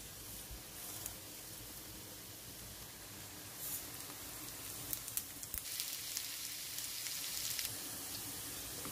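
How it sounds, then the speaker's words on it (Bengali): Potatoes fry in a pan with a faint, continuous sizzling hiss, soft crackles scattered through a steady, low background. "আমি আলু ফ্রাই করমু"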